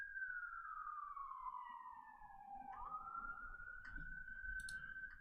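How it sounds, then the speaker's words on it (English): An ambulance siren wails past at a distance, its sweeping tone falling and then rising again, faint against a low background rumble with no voices. "Ambulance is going by."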